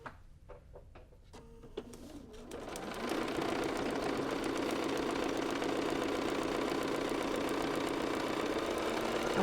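A sewing machine runs steadily while stitching paper-pieced flying geese quilt pieces for a table runner, starting after a few light clicks and settling into a constant, fairly close hum that continues to the end.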